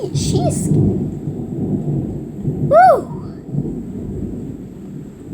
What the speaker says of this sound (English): It's a sound of thunder.